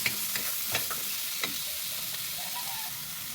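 Vegetables for a Filipino ginisang gulay sauté in a hot pan, giving a steady close sizzle broken by a few scraping stirs of a spatula, with no talking.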